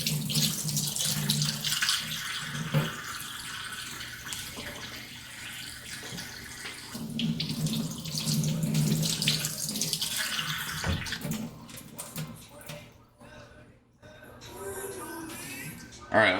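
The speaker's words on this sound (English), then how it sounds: "we'll kind of wash this out just to get any last like little bits of grit or dirt and sand out" Tap water runs steadily into a kitchen sink while halved leeks are rinsed of grit, a continuous splashing rush with brief changes in flow and a short pause near the end, with a person talking over it.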